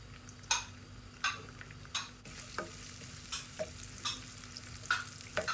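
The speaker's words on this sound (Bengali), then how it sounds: "ভালো করে নাড়াচাড়া দিয়ে নিচ্ছি।" Egg frying in oil with onion, garlic and salt, stirred firmly in a pan: a continuous sizzle broken by repeated scraping strokes of a spatula every half second or so, close and clear, no talk.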